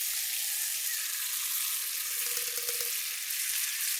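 Gravy sizzles steadily in a pan over a campfire at a rainy forest lakeside camp, with fried mushroom tikka pieces added; a continuous, fairly close hiss and crackle with no talking.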